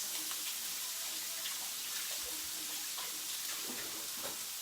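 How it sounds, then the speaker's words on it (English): Tap water runs in a steady, soft wash for a few seconds while fingers are rinsed between grilling hibachi shrimp on a griddle, with faint scattered clicks and no talking. "I'm going to rinse my fingers."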